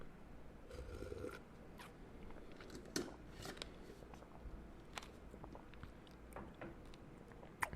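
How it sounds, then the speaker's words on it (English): Berries and their seeds being bitten and chewed in a thick smoothie, giving soft, irregular crunchy clicks and wet mastication noises up close and fairly quiet throughout, with no talking. "I wouldn't have to bite down like this, as you can hear, on these berries and the seeds that can't fully blend well."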